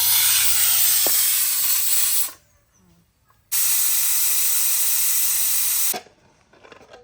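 Pressure cooker holding mutton curry, weight knocked off, blasting a loud steady hiss of steam that cuts out, surges back for a few seconds, then stops again, leaving faint kitchen noise.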